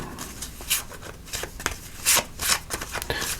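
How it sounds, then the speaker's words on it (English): Tarot cards being shuffled by hand nearby: repeated papery riffles and slaps in irregular bursts, with quieter rubbing between them. "Just going to shuffle these up a little more"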